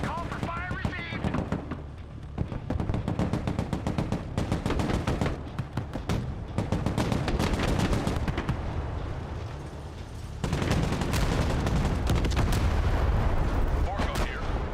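Mortar and artillery fire in the war game Broken Arrow rolls as a dense barrage of booming impacts and sharp cracks, loud and continuous, with radio voices speaking over it.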